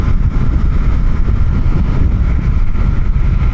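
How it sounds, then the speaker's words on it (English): A Suzuki GSX8R motorcycle accelerates on a highway with its quick shifter, the engine droning steadily under heavy wind rush. "Nice quick shifter. This bike will scoot,"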